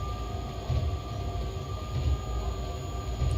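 A train running at about 80 in a train simulator video game, a steady rumbling roll with rhythmic wheel clatter and a faint high whine, moderately quiet and alone.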